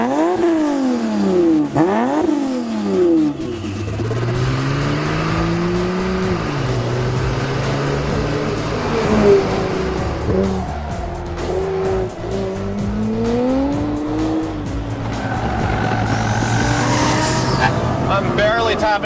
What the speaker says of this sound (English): I'm barely tapping into the throttle. I'm getting drifts.